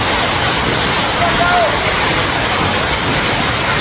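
A loud, constant roar of falling water from the Rampi waterfall in Indonesia fills everything, steady and close, with faint voices barely audible beneath.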